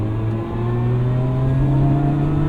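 A car engine with a new aftermarket exhaust revs with a deep, throaty rumble, rising steadily in pitch and loudness, close by.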